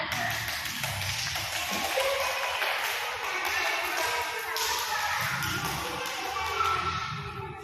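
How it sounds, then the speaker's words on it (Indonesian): A group of children in a classroom clap in a sustained burst of applause, dense and lively in the room, with a few voices mixed in. "tepuk tangan untuk kelompok 3"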